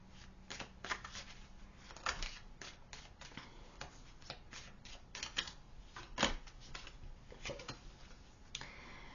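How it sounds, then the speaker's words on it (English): Tarot cards are shuffled and drawn in close, crisp flicks and slaps, an irregular run of card snaps and shuffling rustles over a faint background hiss. "let me get you a few more cards"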